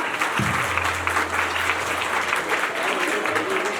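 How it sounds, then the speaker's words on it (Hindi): Pupils and guests at a school's Republic Day celebration clap loudly and continuously after a stage performance, with a low hum from the sound system running underneath. "इसे शानदार प्रस्तुति के लिए जोरदार तालियां।"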